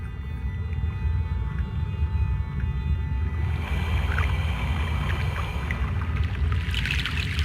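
A boat crossing a river in the game Broken Sword: The Sleeping Dragon: steady low engine-like rumble with water churning and trickling, constant and fairly loud throughout, with brighter splashy wash building toward the end; no talk.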